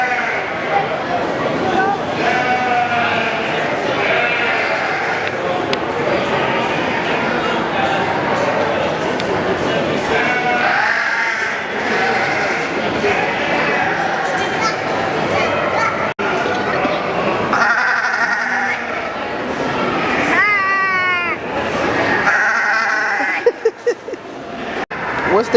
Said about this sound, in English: What's the goat say? You a little goat?